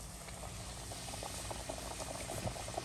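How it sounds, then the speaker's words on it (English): Flour-coated chicken tenders frying in hot oil, a steady bubbling hiss with small crackles and pops, moderately close and fairly quiet, no voices. "And we're going to put them in the oil."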